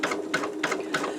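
An embroidery machine stitching an in-the-hoop wallet, its needle running in a fast, even rhythm of about three strokes per second, close and steady with no talk.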